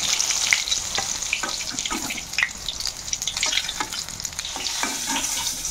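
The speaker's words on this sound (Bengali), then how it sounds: "দেখুন ঠিক এইভাবে ফ্রাই করে নিতে হবে" Pieces of pointed gourd (potol) fry in hot oil for a Bengali potol dorma, with a steady close sizzle and bursts of crackling and stirring throughout.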